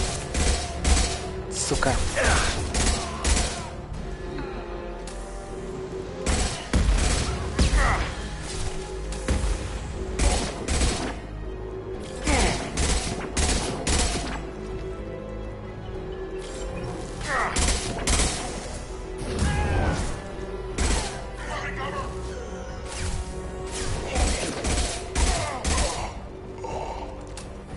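Gunfire rattles through a firefight in Mass Effect Legendary Edition, with repeated loud bursts and single shots spread across the half-minute, and a voice speaking occasionally between volleys.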